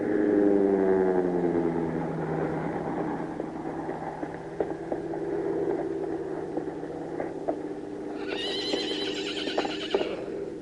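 A herd of horses gallops with a steady clatter of hooves in an old 1937 Western. A long, loud neigh opens the sound and a sharp, high whinny rises near the end.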